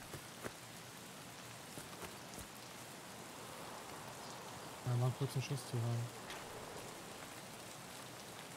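Steady rain in Escape from Tarkov runs as a constant wash through the whole stretch, with people talking over it and a brief burst of louder game noise near the middle.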